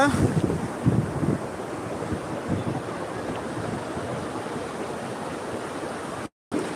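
Wind buffeting the microphone and surf rolling in at Muchalampalem beach, a continuous broad roar with gusty swells, loud and close, with no voices.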